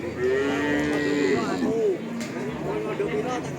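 Cattle moo loudly and repeatedly at a livestock market in Tuban, with a cow and her one-month-old male calf for sale, close by and sustained, mixed with background crowd murmur.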